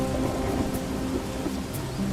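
Heavy rain pours steadily over a farmer's ruined fields in an animated story, a dense continuous hiss with no voices.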